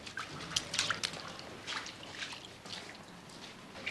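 Water drips inside an empty flat, a scatter of small, irregular taps and splashes close by in a quiet, slightly hollow room with no other sound.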